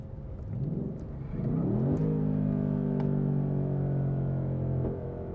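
A 2024 Ford Mustang Dark Horse accelerates onto a drag-strip straight, its engine note rising steadily in pitch through the revs before settling into a sustained, loud, even drone, heard alone.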